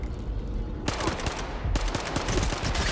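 Rapid gunfire erupts in a video game, with dense bursts of automatic shots starting after a short quiet lead-in and continuing loudly to the end, with no talking.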